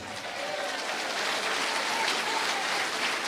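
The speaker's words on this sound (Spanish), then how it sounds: "Fuerte aplausos, Iglesia de Cristo." A church congregation at a service gives loud, sustained applause: a thick, even wash of clapping that holds steady for a few seconds without any speech.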